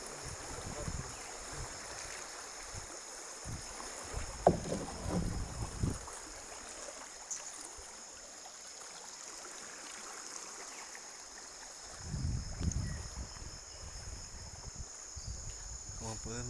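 A boat travels downstream on the Bobonaza river, its motor a faint steady hum under constant insect and water sounds, with scattered voices and bumps in places.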